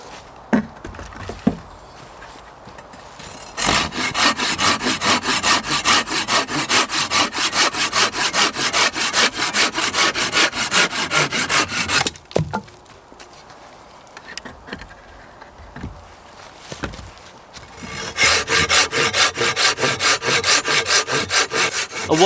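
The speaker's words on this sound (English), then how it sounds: "I'm just going to saw up a little bit of firewood for later on" A hand saw cuts firewood near a log cabin, with long runs of rhythmic, rasping back-and-forth strokes. They are close and clear, separated by pauses and a few knocks.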